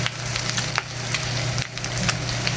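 Oil sizzles and crackles steadily in a pan while sinugaok, a Batangueño dish with tomato and garlic, is being cooked, with a constant frying hiss and scattered pops, close up and alone.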